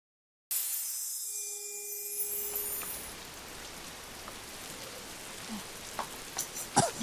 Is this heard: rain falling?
yes